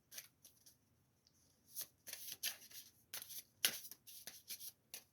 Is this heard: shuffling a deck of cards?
yes